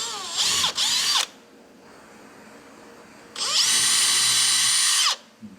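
A power drill with a 1/8 bit whines as it bores into timber in two bursts, a short one and then a longer steady run, with a quiet pause between.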